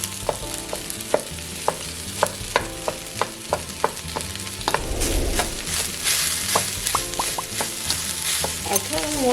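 Fried rice frying in hot oil for a Panda Express–style recipe, with a steady sizzle throughout and sharp utensil scrapes and clacks against the pan at an irregular beat, growing louder midway.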